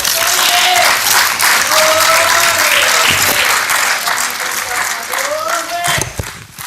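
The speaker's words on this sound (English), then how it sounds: "A huge applause for the Speaker of the Parliament" Loud, sustained applause fills a session of the Pan African Parliament honouring the Speaker, dense clapping from many members with voices calling over it and fading toward the end.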